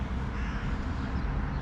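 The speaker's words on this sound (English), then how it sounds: "all I see is crows here" Crows cawing outdoors on a mild day, harsh calls blending into a steady noisy background throughout a short stretch with no talk.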